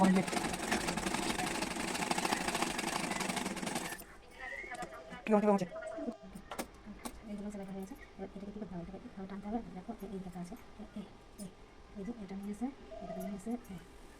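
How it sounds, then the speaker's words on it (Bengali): A sewing machine stitching a size-32 Bombay-cut blouse runs in a loud, steady whir for about four seconds, then stops. A voice talks over faint handling noises afterward. "এখানে চাপ সেলাই যেটা দিয়ে দিচ্ছি"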